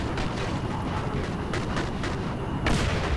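Gunfire in the first-person shooter game Singularity: a string of sharp, loud shots spaced irregularly over dense, rumbling game ambience, with a heavier blast near the end.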